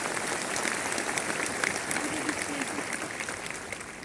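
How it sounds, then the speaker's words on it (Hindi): Loud, sustained applause from a large crowd at a corporate gathering, dense clapping filling the whole stretch at an even level with no pauses. "अगर विश्वास हो रहा है तो जबरदस्त ताली बजाइए"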